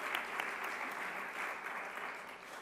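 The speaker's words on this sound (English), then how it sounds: "Let's give Mayor Lutz another round of applause for her leadership." Applause fills a conference hall as a plenary audience of mayors claps steadily, faint and distant-sounding throughout the short stretch.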